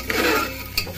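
Spices being stirred in a cooking pot for a simple home-cooked rice dish, a close scraping and rubbing of utensil against metal with a brief sharper clink near the end.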